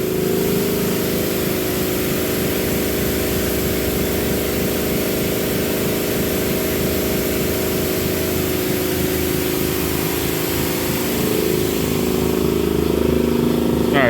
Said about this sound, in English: every time I'm around, there's an air compressor turning on.